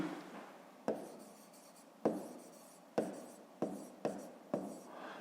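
Numbers written by hand with a pen on paper make about six distinct, quiet stroke sounds, each a short tap followed by a soft scratchy trail, spaced roughly a second apart.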